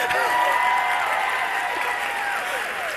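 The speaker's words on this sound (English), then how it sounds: "can I get a round of applause?" Audience applause at a live life coaching event, continuous crowd clapping with whoops and cheering voices over it, steady and fairly loud throughout.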